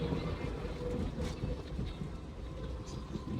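Inside a moving local train carriage near Bhayandar, a steady loud rumble of wheels and carriage noise fills the whole moment, with no talk.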